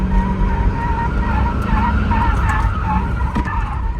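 A limousine on 20-inch rear wheels with 305 tires skids while drifting, tire squeal wavering continuously and loud over steady engine roar, close by throughout.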